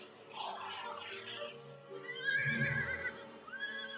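Horses whinny and neigh in several shrill, wavering calls, one after another, fairly close, with a low snort in between.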